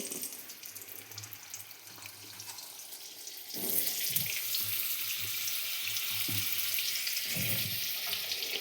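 Potatoes, salted and dusted with turmeric for a Bengali chicken dish, are dropped into hot oil, the fizz and sizzle jumping louder partway through and then holding steady with occasional pops, close to the pan without any talking.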